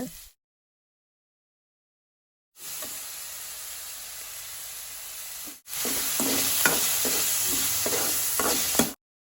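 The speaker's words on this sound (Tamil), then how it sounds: "தேவையான உப்பு மற்றும் கருவேப்பிலை சேர்த்து வதக்குங்க." Masala sautéed with salt and curry leaves for a crab and prawn curry lunch, a loud close sizzle in two bursts separated by silence, the second louder with a rhythmic scrape of stirring.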